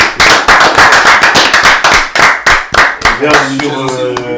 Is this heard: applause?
yes